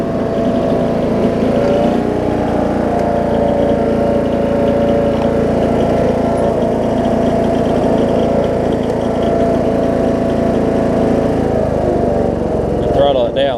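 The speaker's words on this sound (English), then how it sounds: "Listen, I mean, it'll even idle. It even idles really well." A John Deere D110 lawn tractor with a rebuilt engine idles steadily close by, a loud, even mechanical drone that holds for the whole stretch.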